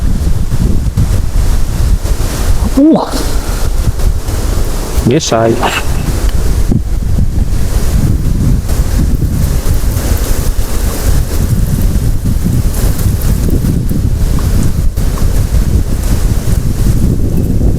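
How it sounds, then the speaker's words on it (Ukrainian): Strong wind buffeting a microphone outdoors during a cooking outing, a constant loud low rumble, with a few short exclamations from a man. "Вітер сьогодні не хоче з нами дружити."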